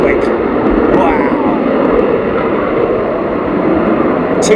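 Military jets, F-15 Strike Eagles and F-35s, departing RAF Lakenheath in two-ship formations: a loud, continuous roar of jet engines close by, with a voice talking over it.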